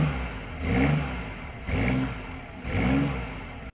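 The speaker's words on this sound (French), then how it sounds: "il y a enfin le mode sport qu'on active tout simplement depuis le levier de vitesse et qui permet au moteur à l'arrière de" Rear-mounted engine of a BMW i8 in sport mode, close and steady, swelling in three distinct revving surges about a second apart, each easing back to a low purr.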